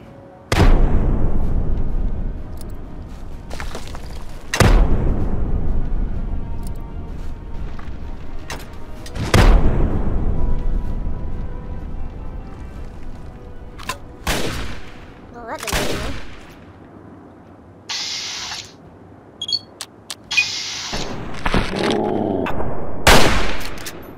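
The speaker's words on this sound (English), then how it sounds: "I really do not like this gun." Gunfire from a weapon in the video game Fallout 3: several loud, heavy shots spaced a few seconds apart, each booming and trailing off over a steady background rumble, with a burst of quicker shots near the end.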